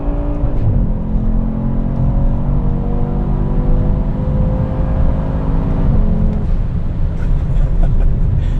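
A 500 HP Audi RS3 accelerating on a desert run, the engine droning loud and close as revs climb, dip at a gear change and build again.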